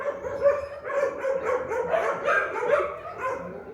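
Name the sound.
dogs barking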